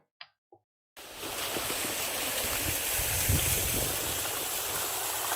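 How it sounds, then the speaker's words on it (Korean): A waterfall plays back from a phone video at an arboretum by the sea on Daebudo in Ansan, making a steady, loud rushing roar that starts abruptly after two brief faint sounds and continues unbroken. "저기 폭포가 저렇게 나왔어"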